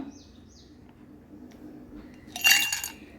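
A single bright glass clink rings out near the end after a quiet stretch, as a glass bottle is handled while storing homemade hibiscus flower syrup in a kitchen.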